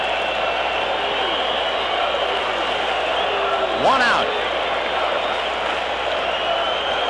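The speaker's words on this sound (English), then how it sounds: "And the crowd beside itself." Baseball stadium crowd at the 1984 World Series between the Padres and Tigers, a broad steady roar of cheering fans filling the park, with a play-by-play announcer talking over it.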